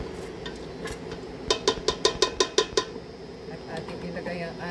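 A spoon stirs all-purpose cream into carbonara sauce in a pan, tapping and clinking against the metal in a quick run of about eight sharp knocks, over a low background hum.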